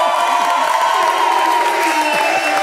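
A studio audience applauds at a TV game show, a dense wash of clapping with a few whoops and cheers. It is loud and sustained for the whole moment, with tonal music or a voice running underneath.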